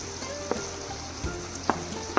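Onion, ginger and green chili fry in a hot pan with a soft, steady sizzle, broken by a few sharp crackles and pops. There is no talking.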